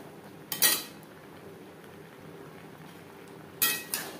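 Taro leaves (kochur shak) being stirred in a pan, heard as two short bursts of scraping and clinking from a utensil, close by, with a quiet simmer in between.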